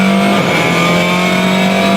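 A WRC rally car at speed on a 2007 Rally France stage, its engine roaring loud and continuous with a steady high-revving drone and no break.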